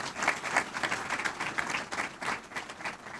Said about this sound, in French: Je pense que tous deux méritent des applaudissements bien nourris.